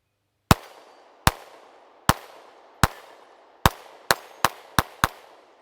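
A Taurus GX4 pistol fires at a 100-yard target outdoors: nine sharp, loud reports with short decaying tails, spaced roughly a second apart at first, then quickening into a rapid string of shots.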